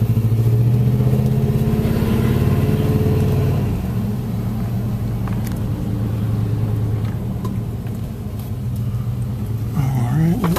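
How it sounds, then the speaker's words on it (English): Street traffic in Iguala, Mexico rumbles close by, a car or motorbike engine loud at first and then easing into a steady passing drone with some clatter, while someone speaks. "All right, little traffic."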